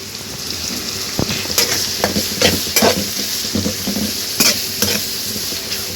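Gongura and onion tempering sizzle in hot oil for a curry, a steady loud fry broken by sharp metallic scrapes and clanks of a ladle stirring the pan.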